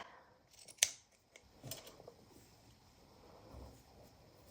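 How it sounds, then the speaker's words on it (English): Scissors cut a small piece of paper craft material at close range with one sharp snip followed by a few quieter, softer cuts and rustling in a quiet room. "Let me cut a smaller piece."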